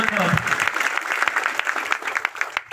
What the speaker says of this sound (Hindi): एक बार जोरदार ताली बजाने के लिए निवेदन करो